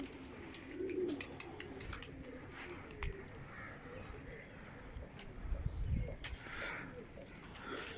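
Soft, low cooing of pigeons rises through a busy outdoor pigeon-flying scene with scattered clicks and rustles, with people talking faintly in the background.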